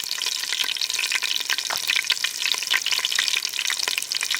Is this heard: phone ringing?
no